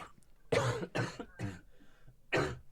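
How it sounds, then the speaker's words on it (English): Three sharp coughs from one person, close and loud, the first two in quick succession and the third after a short pause, with a quieter throat sound between them. "And then she coughs."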